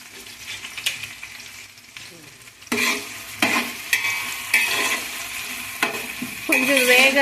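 Onions and green chillies fry in a pan for pulao, a steady sizzle broken by loud scraping stirs that grow more frequent and busier in the second half, with no talking.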